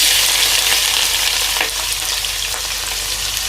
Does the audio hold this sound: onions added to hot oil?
yes